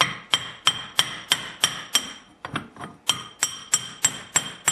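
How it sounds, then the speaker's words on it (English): Steady metallic taps as an oil seal is driven down through a large pipe in a Honda snowblower auger gearbox, about a dozen sharp, evenly paced ringing knocks close by, with a brief uneven pause midway. "I'm just going to put a piece of large pipe over the seal and gently tap down"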